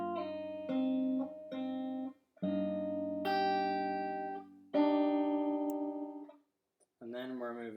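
Fingerstyle acoustic guitar plays a short passage, a run of clear plucked notes and ringing chords with brief pauses, close and fairly quiet, ending in a different sustained tone.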